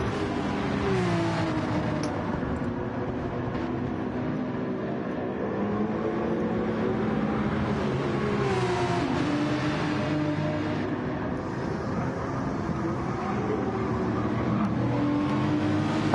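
A race car in Gran Turismo 7 at Kyoto Driving Park Yamagiwa accelerates hard, its engine note climbing and dropping through gear changes in a constant loud, close drone.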